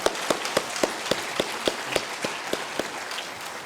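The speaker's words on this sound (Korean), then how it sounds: "큰 박수 하겠습니다" A church congregation claps for the children during Sunday worship, the claps landing in a steady, even rhythm, fairly close and moderately loud, with no voices over them.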